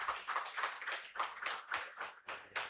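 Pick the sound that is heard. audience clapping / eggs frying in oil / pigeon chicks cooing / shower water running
audience clapping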